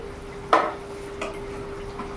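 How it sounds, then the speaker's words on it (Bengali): A pot lid comes off oil-free chicken curry with potatoes that has simmered for twenty minutes: one close metallic clank, a fainter clink a moment later, and a low steady hum throughout. No one speaks. "এবার আমি ঢাকাটা খুলে দেখব।"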